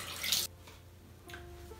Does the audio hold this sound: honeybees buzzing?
no